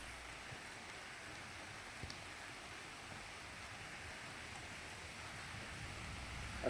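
Rain falls steadily on a parked jeep at a campsite, a faint, even hiss of drops with occasional tiny ticks throughout.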